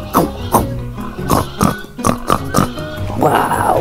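A person imitates a pig, giving a run of about six short, loud, nasal oinks and grunts in quick succession, ending in a longer squealing snort, heard alone and close, with no other talk.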